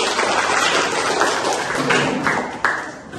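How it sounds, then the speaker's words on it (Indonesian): Classmates applaud at the end of a school class presentation in an Indonesian classroom, a steady wash of clapping holding for about three seconds, then thinning and fading out near the end. "Kita beri aplaus untuk teman-teman"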